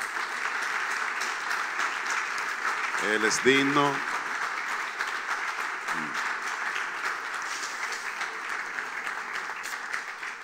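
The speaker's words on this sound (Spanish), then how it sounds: "Vamos a darle un aplauso al Señor" A church congregation applauding the Lord, a continuous wash of clapping throughout, with a voice speaking briefly over it near the middle.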